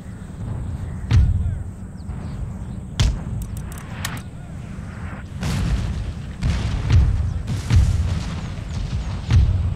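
Artillery and mortar fire in Empire: Total War, a series of deep booms and sharp cracks spaced a second or two apart. Battle rumble sits underneath, with a few faint voices.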